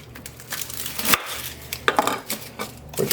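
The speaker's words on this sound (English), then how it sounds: "Take a good sized onion, and we're just going to cut it into quarters." A knife chops through a whole unpeeled onion on a board, several sharp cutting knocks spaced irregularly, close and fairly loud with no one talking.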